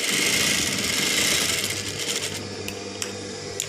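A sewing machine stitching a nighty gives a loud, steady mechanical whir that runs continuously, easing slightly toward the end with a few sharp clicks.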